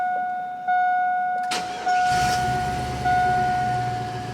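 A car engine cranks and then catches, with a sharp onset and a rough, uneven idle that points to a misfire, while a steady electronic chime or warning tone sounds alongside it throughout.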